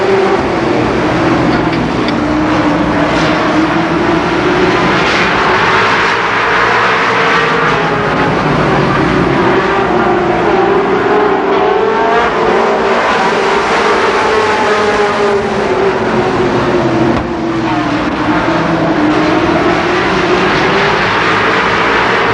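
Race cars roar around the Columbus Motor Speedway oval during a 1990 heat race, a dense, continuous engine drone that swells and fades as the pack passes, loud and steady throughout.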